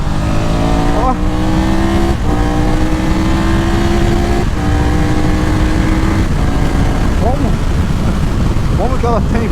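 A Triumph Tiger 1200 Rally Explorer motorcycle engine pulling in third gear at low revs, a loud steady drone with rising harmonic tone and gear-shift dips, heavy wind rush and a rider talking throughout.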